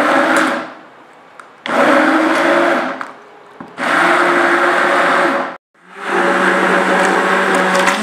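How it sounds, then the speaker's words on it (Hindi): A kitchen mixer grinder blends mango into a fine paste for homemade ice cream, running in three loud bursts of whirring motor noise with short pauses between them. "इस तरीके से आप ग्राइंडर डाल करके इसको पीस लेंगे"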